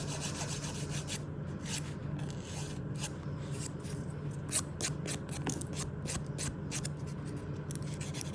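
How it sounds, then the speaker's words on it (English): A nail file rasps across fingernails with short, repeated back-and-forth strokes in a quick, even rhythm, close and fairly soft, during a gel manicure session. "filing in both directions is absolutely fine"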